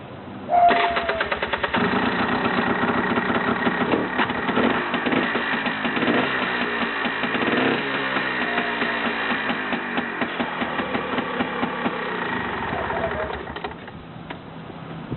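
A Honda Pilot engine cranks and catches, then settles into a steady close-up idle with a continuous mechanical hum and faint rhythmic ticking before the sound tapers off near the end.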